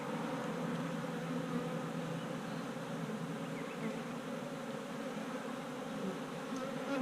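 Honeybees buzzing over a hive frame packed with pollen, a dense, even drone of many wings close by that holds steady the whole time, with no talking.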